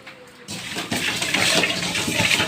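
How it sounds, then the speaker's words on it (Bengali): Running water rushes steadily as rohu fish are washed, starting after a brief quiet moment and continuing loud and close without any talk. "এখন মাছগুলোকে ভালো করে ধুয়ে নিব"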